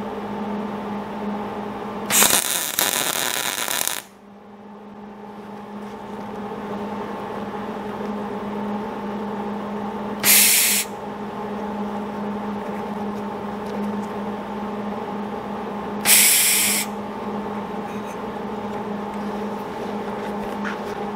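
Three short bursts of arc welding, each a loud crackling hiss lasting one to two seconds, as heavy gate hinges are tack welded, set against a steady mechanical hum with quiet gaps between the tacks.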